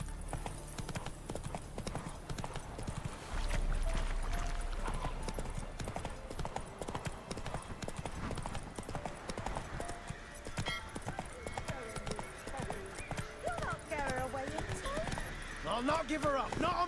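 Roach, a horse in The Witcher 3, gallops with steady hoof clip-clop under game music and speech, hoofbeats running through the whole stretch.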